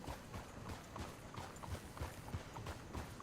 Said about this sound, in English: The clippity-clop of the horse's hooves, that's very cool.